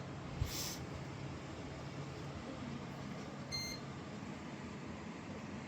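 A single short electronic computer startup beep from a repaired gaming PC sounds over a steady low fan hum, fairly faint and brief.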